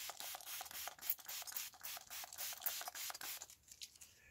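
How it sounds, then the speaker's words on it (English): Liquid is sprayed onto ballast on model railway track and pointwork. A quick series of hissy trigger-pump sprays comes in a steady rhythm from close by, fairly quiet, with no talk. "So I am just going to spray this, and you'll see the difference it will make."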